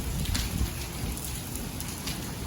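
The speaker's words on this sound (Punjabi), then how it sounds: "ਗੜਿਆਂ ਦੀ ਆਵਾਜ਼ ਆਹ ਦੇਖੋ ਪਏ" Hailstones pelt the ground in a steady dense patter during a storm over farm fields, close and continuous with no speech.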